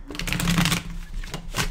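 A brief riffle of playing cards being shuffled, a quick flutter of papery clicks with a couple of softer taps at the end.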